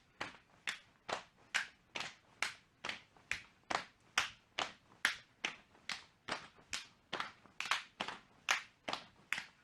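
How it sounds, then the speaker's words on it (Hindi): A steady run of about twenty sharp overhead hand claps keeps an even, brisk rhythm from someone doing jumping jacks during a women's self-defense training exercise session, each clap crisp and close with no talking. "पैरों को एक साथ खोलना है और साथ में सिर के ऊपर ताली बजानी है"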